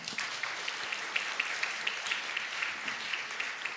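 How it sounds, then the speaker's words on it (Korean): A congregation at a Sunday church service claps for children and youths being recognized, soft steady applause with individual claps audible, somewhat distant and without speech. "우리 박수 부탁하겠습니다."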